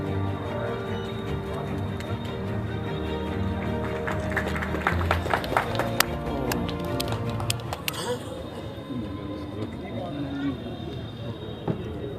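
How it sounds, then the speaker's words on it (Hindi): Crowd applause fills an outdoor stadium at a Republic Day flag-hoisting ceremony in Purnia, with steady clapping under a public-address and band backdrop, building louder midway before settling into a thinner patter. "पर जोरदार तालियां सभी पुलिस डिपार्टमेंट के लिए।"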